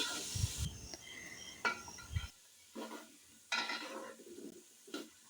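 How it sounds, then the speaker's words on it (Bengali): Potatoes fry in oil for biryani, with an intermittent sizzle and repeated clinks and scrapes of a spatula stirring in the pan, in short bursts close by. "বিরিয়ানিতে আমি একটু আলু দিব তাই আমি আলুটা আগে তেলে একটু লাল করে ভেজে নিচ্ছি"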